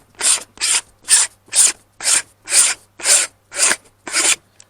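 A camera lens makes about nine rhythmic, raspy rubbing scrapes in quick succession as it is twisted off, close and fairly loud, with no talking.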